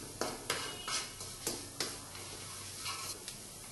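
Spices sizzle softly in a pan for chicken curry, with turmeric powder and salt in the mix, while a spoon scrapes and taps the pan every half second or so under a steady frying hiss.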